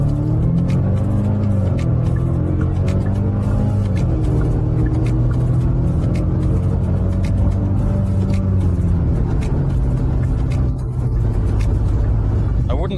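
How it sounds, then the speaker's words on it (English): Genesis GV70 with a 2.5-litre turbo engine accelerating hard at full throttle on a highway, a steady loud engine drone with rising harmonics heard from inside the cabin, with light talk over it. "I've never floored the gas pedal, so perhaps we can start now."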